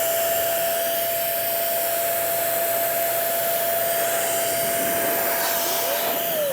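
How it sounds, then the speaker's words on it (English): A powerful air blower roars steadily while blasting dust out of an old NAS storage server, a loud continuous rushing whoosh with a faint whine that shifts briefly near the end. "it's just going to blow a crap ton of air and hopefully get all of this dust out"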